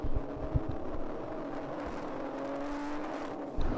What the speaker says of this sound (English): A lot of tire noise there.